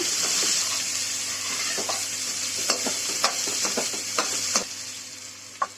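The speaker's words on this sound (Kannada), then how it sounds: "ಒಣಮೆಣಸಿನ್ಕಾಯಿ, ಜೀರಿಗೆ, ಹಸಿಮೆಣಸಿನ್ಕಾಯಿ, ಕರಿಬೇವು, ಈರುಳ್ಳಿ ಬಾಡಿಸ್ಕೋಬೇಕು." Dried chillies, cumin, green chillies, curry leaves and onion sauté in hot oil in a pan for fenugreek-leaf broken wheat upma, a steady sizzle broken by sharp clinks and scrapes of stirring.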